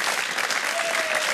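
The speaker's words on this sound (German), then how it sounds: "Applaus für Hanka, geht zurück zu Harrys Helden." Studio audience applause on a German family game show, a Big Brother special from 2006: a short, loud burst of close, continuous clapping.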